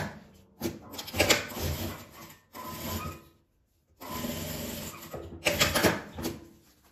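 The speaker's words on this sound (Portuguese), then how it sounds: "agora eu passo uma costura em volta desse meu painel todo" Sewing machine stitching around a fabric panel, running in several short bursts with brief pauses and a longer gap in the middle, close and fairly loud with some cloth handling between runs.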